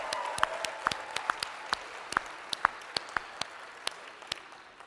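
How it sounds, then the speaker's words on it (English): Applause from a conference audience honouring the women present, a sparse, fairly close patter of individual claps continuing steadily for several seconds with no voices. "Guys, can you give them a hand?"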